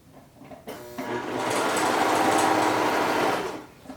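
Serger overlocking around a round cuff or pants leg, a single burst of fast, even motor whir that ramps up and holds steady for about two and a half seconds before stopping, close and clear with no voices.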